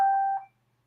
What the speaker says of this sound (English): I can hear something beeping.